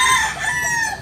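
A two-year-old bullstag rooster crows once, a short, loud, close call that rises and then trails off, with no voices over it.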